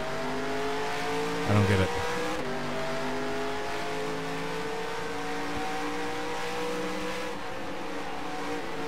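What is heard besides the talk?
race car engine and tires in NR2003 video game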